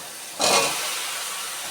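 Chopped bottle gourd hits hot oil and fried spices in a pan, giving a sudden loud sizzling burst that settles into a steady softer hiss.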